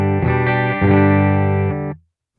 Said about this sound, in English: Here's another Deluxe reverb profile I did clean.